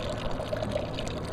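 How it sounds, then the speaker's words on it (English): Water draining straight down without a spiral in an equator demonstration, a soft steady pouring and gurgling trickle at close range with no voices. "The water is still draining."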